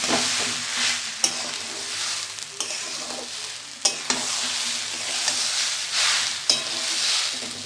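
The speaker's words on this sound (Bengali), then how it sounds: "ডালিয়াটা সুন্দর করে ডালিয়া ডাল একসঙ্গে ভেজে নেবেন ভালোভাবে" Dalia and dal sizzle as they fry together in a pan with turmeric, with a steady crackling hiss broken by periodic scrapes and clinks of a spoon stirring close by.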